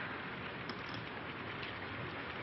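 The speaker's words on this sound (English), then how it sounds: "It's this rain, I guess." Steady rain falls in a continuous, even hiss, dense and unbroken throughout with no voices over it, in a 1932 setting.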